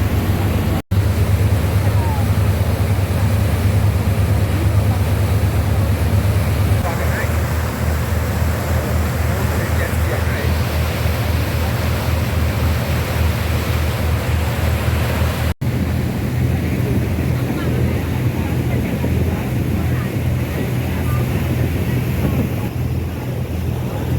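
Steady broadband rumble of a water bus cruising on the Saigon River, with continuous engine drone, wind buffeting and water wash heard close and unbroken throughout.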